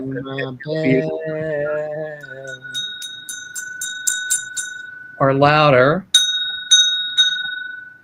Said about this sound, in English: That is my BS bell.